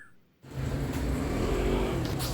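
After a brief quiet moment, a car engine starts up loudly and keeps running with a steady, rumbling roar.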